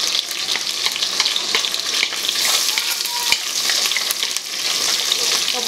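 Garlic frying in a pan for a Malaysian chicken noodle soup: a steady, bright crackling sizzle with occasional stirring scrapes, close and continuous, with no voices over it.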